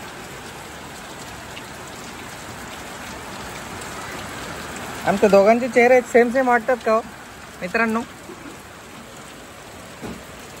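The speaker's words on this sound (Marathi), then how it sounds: "चल तुला पाऊस दाखवतो." Steady rain falls throughout as an even, close hiss, with a person talking over it in the middle of the stretch.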